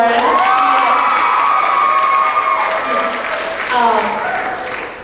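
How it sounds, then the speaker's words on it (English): Applause and cheering from a crowd for Jenny Warren, loud and sustained with voices mixed in, some shouting over the clapping, then easing slightly. "Applause for Jenny Warren."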